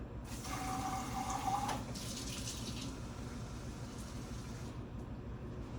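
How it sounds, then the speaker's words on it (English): Warm water runs from a kitchen tap for fry pie dough, a faint, steady trickle and splash lasting a few seconds before tapering off, with no talking. "So now from there, I'm gonna get some warm water."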